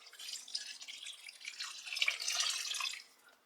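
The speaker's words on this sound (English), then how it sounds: "it's time to braise the beef in by adding some water to it" Water pours into a pot of beef for braising in a stew, a steady splashing trickle that swells near the end and then tapers off, close by with no talking.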